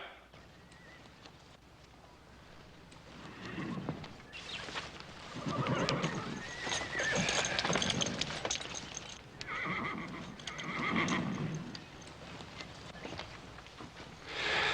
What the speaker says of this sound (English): Charlie, slap a saddle on this black horse.